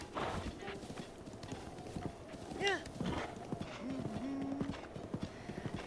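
Horse hooves clip-clop in Breath of the Wild, with a brief whinny partway through, while several people talk and laugh over the game sounds.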